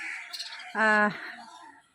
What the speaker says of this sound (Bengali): চলো পাখি দেখায় এখানে আছে নানা ধরনের পাখি